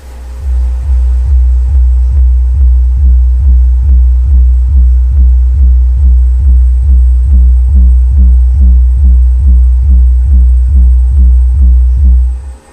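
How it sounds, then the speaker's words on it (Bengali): A 300-watt 2.1 amplifier drives its subwoofer with loud, steady bass, a deep pulsing throb repeating about twice a second, close and continuous with no voices. "আমি সাবফারটা আমি অ্যাক্টিভ করছি দেখুন আমার অ্যাম্পলিফায়ার চালু আছে"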